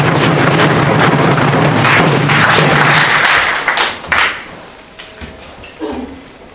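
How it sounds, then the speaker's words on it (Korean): A crowd at a Korea Exchange Bank shareholders' meeting against delisting applauds loudly. Dense clapping lasts about three seconds, then breaks into a few scattered, sharp claps. "큰 박수 부탁드리겠습니다."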